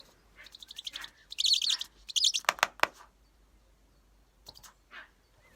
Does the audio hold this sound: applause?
no